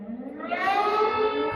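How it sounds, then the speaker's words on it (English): An air raid siren in Kyiv wails loud and alone, its tone rising steadily and then holding a long, even pitch. "awful sound is the sound of the air raid siren."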